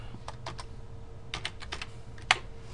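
Typing on a computer keyboard while entering an Excel formula: close, crisp key clicks in short irregular bursts, ending with one sharper, louder keystroke.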